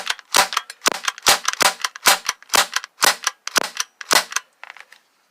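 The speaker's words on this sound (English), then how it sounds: "let's get shooting the Umarex." An Umarex BB gun fires repeatedly at oranges wrapped in black duct tape, about a dozen sharp, loud cracks in a quick, uneven rhythm, close by with no talking.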